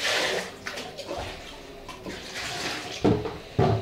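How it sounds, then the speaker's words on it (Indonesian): Dirty water being poured out of a container used to clean water lettuce plants and replaced with fresh water, heard as close splashing and gurgling pours, with two louder sloshes near the end. "ganti ya air yang tadi bekas dari ininya yang kotor"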